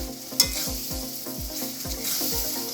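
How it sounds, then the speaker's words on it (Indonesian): Galangal, bay leaves and bruised lemongrass sizzle continuously over normal heat in a pan for sambal goreng terasi while a utensil scrapes and stirs in a steady rhythm, with one sharp clack early on. "Kita goreng dengan api biasa saja."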